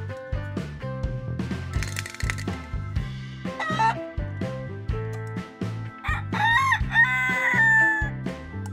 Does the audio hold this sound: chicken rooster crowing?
yes